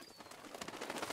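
A flock of birds takes off in Breath of the Wild, a dense burst of fluttering wings and rustling that keeps up steadily throughout.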